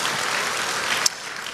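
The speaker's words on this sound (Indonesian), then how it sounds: "berikan tepuk tangan kita untuk Tuhan kita" Church congregation applause fills the space at a worship service, a dense burst of many hands clapping that thins out near the end.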